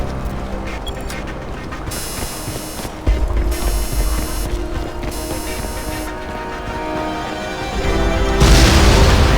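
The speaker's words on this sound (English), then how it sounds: "We have an explosion at the church!" Heavy booms and blasts from an explosion at a church in Crysis 2, with a sharp impact partway through and a louder swelling burst near the end over rumbling battle noise.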